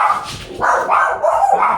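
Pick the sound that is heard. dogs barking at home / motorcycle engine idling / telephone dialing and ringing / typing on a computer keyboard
dogs barking at home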